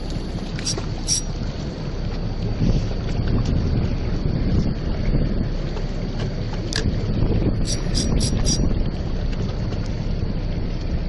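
A steady rush of wind roars over a fishing boat out on the water during squid fishing, broadband and constant at close range, with a few faint high metallic chimes and ticks.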